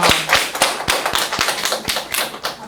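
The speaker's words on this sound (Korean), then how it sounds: "오, 박수" Students at a middle-school debate contest clap in a brisk, close burst of sharp individual claps at a steady rhythm, loud and without talk.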